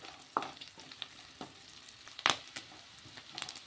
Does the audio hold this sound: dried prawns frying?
yes